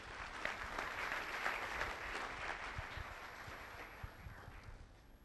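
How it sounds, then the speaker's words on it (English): Conference audience applauding a panel of speakers, a fairly quiet, steady patter of many hands clapping at some distance, holding evenly before tapering slightly. "Another round of applause, please, for our panelists."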